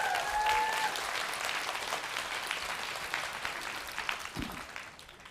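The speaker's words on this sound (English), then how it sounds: "Let's give them a round of applause." Conference audience applauding steadily for about four seconds, a dense wash of clapping that tapers off, with a few faint whistles near the start.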